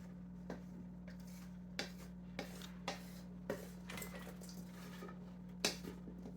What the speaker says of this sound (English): I'm just gonna stir it all together.